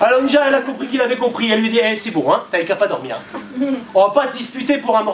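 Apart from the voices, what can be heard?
No everyday noise stands out behind the speech.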